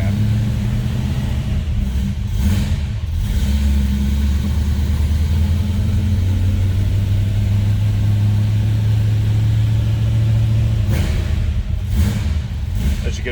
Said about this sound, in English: Was a cold start, so we're going to let it warm up here just a bit.